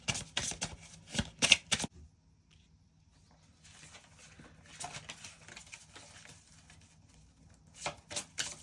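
Starcodes Astro oracle cards are riffled in quick bursts, a cluster of crisp shuffles at the start, a softer rustling stretch in the middle and more sharp shuffles at the end, close and quiet.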